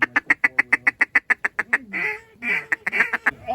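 A duck quacks in a rapid, evenly spaced run of loud, close calls during a cold-weather hunt, followed by a few rougher, breathier quacks with brief gaps between them.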